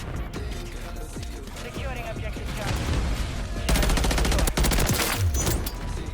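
Rapid pistol fire in a first-person shooter video game, a dense run of sharp shots that builds into a fast continuous burst near the end, loud and close with a voice talking underneath.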